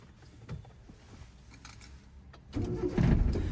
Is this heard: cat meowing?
no